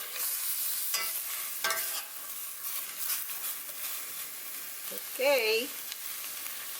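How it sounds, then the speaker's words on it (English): Bitter melon stirred in boiling vinegar in a pan for Filipino pickled achara: constant soft sizzling with scraping stir strokes, close up, and a voice speaks briefly. "vinegar is boiling. Keep stirring to coat all the bitter melon with the vinegar."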